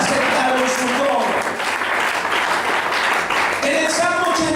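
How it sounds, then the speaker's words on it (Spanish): Congregation applauding at a church service, sustained loud clapping filling the space while a voice speaks over it at the start and end. "Una ofrenda de aplausos al Señor, hermanos."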